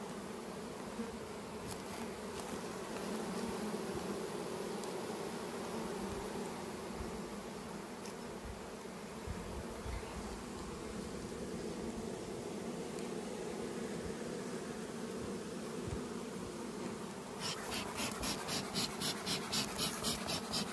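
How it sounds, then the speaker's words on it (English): Honey bees buzz in a dense, continuous hum at the front of a hive on a warm day, with individual insects darting close past near the end. "So let's look at the front of the hive there, Tyson."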